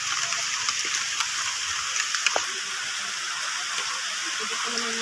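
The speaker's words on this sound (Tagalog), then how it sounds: "Malakas po ang ulan" Steady rain hisses down in a dense, continuous wash, with a few scattered drips and taps close by.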